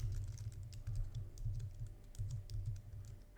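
Computer keyboard keys clack in quick irregular runs as code is typed, faint and close with no voices.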